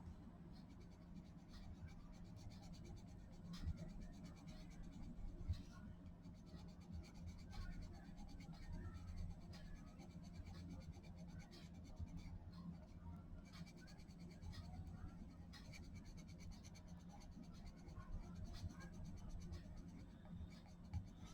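Lightfast colored pencils scratch softly and continuously across thin paper, a faint, steady grainy rasp of close strokes with occasional quiet taps, and low background hum.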